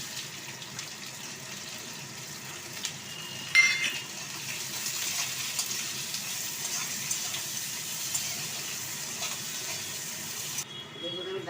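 Onions go into hot oil in a pan while cooking baby aloo dum, giving a steady broad hiss that flares briefly as they hit, with talking faintly in the background.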